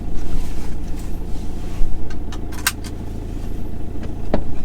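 Camper van on all-terrain tires drives a mountain road on the Transfagarasan in Romania, with a loud, continuous engine and road rumble and a few brief rattles and clinks inside the cabin.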